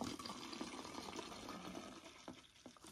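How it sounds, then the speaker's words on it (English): Vodka pours into a water bottle, a short close trickling gurgle that is fairly faint and holds steady, with no talking. "Now we're going to put the vodka inside the water."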